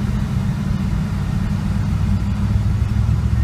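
A 1955 Buick engine cruises in a steady, loud low-pitched drone, with a continuous rumble and no breaks.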